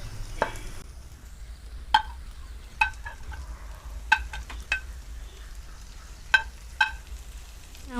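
Crushed fried chicken is stirred in a pan, with a soft sizzle under a series of sharp scraping and clinking strokes of a spoon against the metal, spaced out irregularly.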